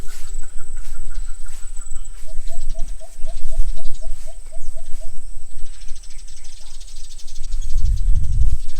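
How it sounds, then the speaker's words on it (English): Outdoor wildlife at a house-building site in the Philippines: a steady high insect drone runs throughout, with a short rapid series of repeated bird-like chirps midway and scattered calls, plus low rumbling near the end. "It's the wildlife. It's birds and sometimes the tuco later on at nighttime."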